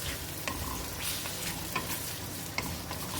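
Tomato, garlic and ginger frying in a pan, a steady soft sizzle with occasional faint clicks of stirring throughout.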